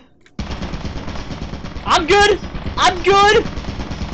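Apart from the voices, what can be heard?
turret firing in the video game Lethal Company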